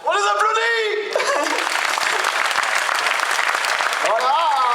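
Applause from a crowd at the podium of the 2015 Orthez rally, steady and continuous for several seconds, with a loudspeaker voice talking over it at the start and again at the end.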